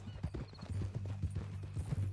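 Horse hooves clip-clop in a steady walking rhythm in Red Dead Redemption 2, moderately close and fairly quiet, with a faint background hum.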